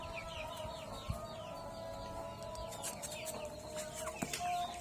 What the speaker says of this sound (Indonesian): Ini ayam yang galak guys.